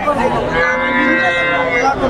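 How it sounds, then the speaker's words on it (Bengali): A Deshal breed cow gives one long, loud, close moo that fills nearly two seconds. "দেশাল জাতের, একটি করজ জাতের গাভী দেখাচ্ছি দেখেন, সাথে বকনা বাছুর দেখেন।"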